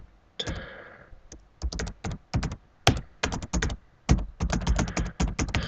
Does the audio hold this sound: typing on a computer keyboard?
yes